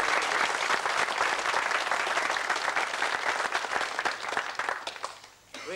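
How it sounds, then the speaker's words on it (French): Sustained audience applause at a French municipal gathering, dense and steady clapping from a hall crowd that fades out at the very end. "Il faut l'applaudir, effectivement"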